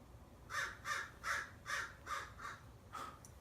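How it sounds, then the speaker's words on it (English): A crow caws outside a window, about seven loud, harsh calls in an even rhythm over a quiet background. "hearing a crow outside the window."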